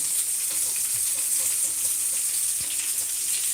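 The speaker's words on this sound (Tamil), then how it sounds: "கிழங்கா மீன் ஃப்ரை பண்ணிகிட்ருக்கேன்" Kizhanga fish frying in a pan, a steady hiss of hot oil sizzling continuously and evenly throughout with a few faint clinks, no voices.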